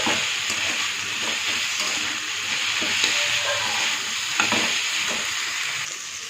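Ginger and garlic paste sizzling and frying in a pan while being stirred, with a steady hiss and intermittent scraping clicks of the spoon, close and fairly loud.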